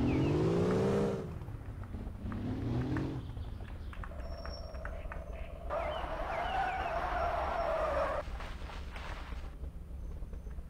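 Engine of a car driven in the video game Russian Car Driver, droning and swelling with rising and falling revs, dipping and surging over several seconds with a few high tonal game effects layered on top and no talk.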